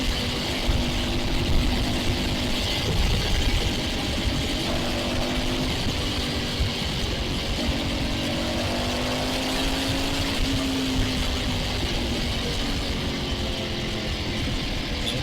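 A Suzuki TL1000R motorcycle engine pulls hard in second gear, its steady roar rising in pitch under wind rush from close by, with no talking over it.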